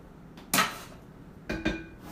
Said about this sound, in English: And then we are going to throw the nuts in the same bowl.